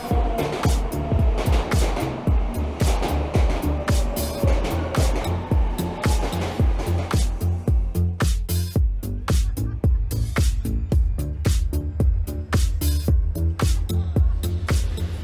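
An Odakyu Line Romance Car train pulls in on a Japanese platform, its wheels clicking over rail joints in a steady, quickening rhythm under a loud rolling rumble that continues throughout.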